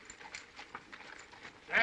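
Horses' hooves clip-clop in a dusty 1934 Arizona western camp setting, a soft irregular patter of steps at moderate distance, with a louder burst of noise rising at the very end.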